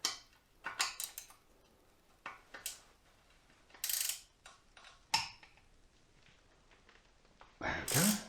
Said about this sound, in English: There we go, 1/2 inch ratchet spanner.